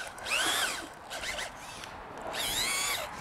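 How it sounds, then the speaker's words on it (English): A power drill mixing in a bucket whirs in short rising and falling bursts, revving up and down a few times, moderately close and fairly quiet. "I'll show you what happens with a drill."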